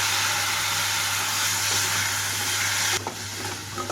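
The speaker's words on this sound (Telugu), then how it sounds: "ఇప్పుడు ఇందులోకి కట్ చేసి పెట్టుకున్న క్యాలీఫ్లవర్ వేసేస్తున్నాను." Chopped cauliflower goes into a hot pan of sizzling ginger-garlic paste. A loud, steady frying hiss over a low hum drops abruptly near the end.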